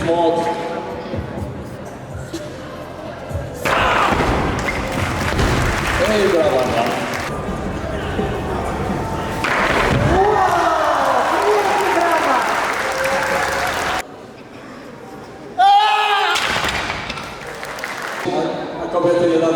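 Audience applause at a karate club demonstration during a charity fundraising final, loud sustained clapping from a crowd with someone talking over it, briefly dropping off before surging again.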